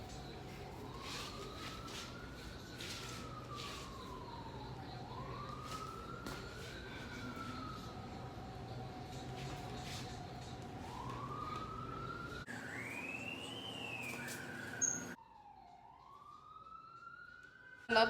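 An ambulance siren wails near a hospital in long rising and falling sweeps, loud and steady, then shifting to faster yelping tones as it passes, with a faint background hum.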